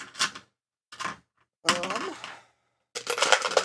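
Dice and tabletop game gear clatter in several short bursts as they are put away, with quiet gaps between the rattling clusters.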